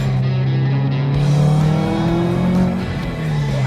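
A COBB-tuned Subaru STI engine revs loud and close, a steady harmonic drone climbing and falling in pitch over a few seconds, with a gritty edge and no talk.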